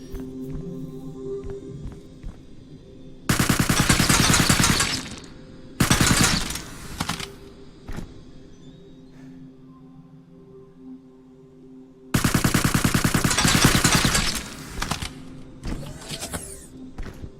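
Bursts of rapid automatic gunfire from a sound-design reel crackle loud and dense, a long volley followed by a shorter one, then another sustained barrage, with quieter mechanical clatter and ambience between them.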